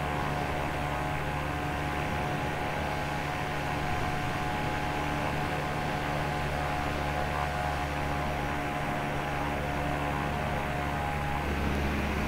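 A Topper Solo 103 ultralight flies in Microsoft Flight Simulator, giving a steady, even engine drone with a constant hum and airflow hiss. The drone holds at low volume throughout, with no talking.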